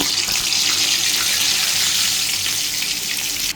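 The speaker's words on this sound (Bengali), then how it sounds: "তেলও গরম হয়ে গেছে এখন আমি এক একটু করে ফ্রাই দিয়ে দেবো" Potato fries dropped into hot oil sizzle loudly and continuously, a dense bubbling hiss that stays steady before cutting off abruptly at the end, with no talk over it.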